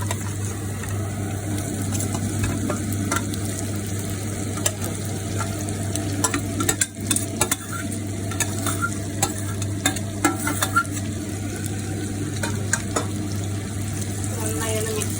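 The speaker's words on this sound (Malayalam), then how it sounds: "ഈ ഉള്ളി ഇപ്പോൾ നന്നായി വതക്കിയിട്ട് അതിലേക്ക് നമ്മൾ ഈ ചിക്കൻ പീസസ് എടുത്തൊന്ന് കട്ടാം" Chicken pieces fry with sautéed onions in a pan, giving a dense continuous sizzle as a spatula stirs and scrapes in frequent close knocks over a steady low hum.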